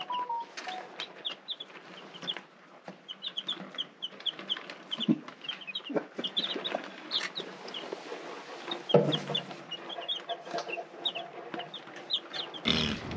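Newly arrived Rhode Island Red chicks chirp and cluck in a busy, overlapping chorus, with many short high peeps in quick succession, close and steady, alongside scattered rustling.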